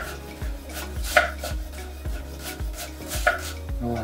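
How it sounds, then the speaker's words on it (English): A knife chops banana shallots finely on a chopping board, a steady run of quick, soft thuds, moderately quiet, with no talk. "So as fine as you can go, we're going to chop our shallots"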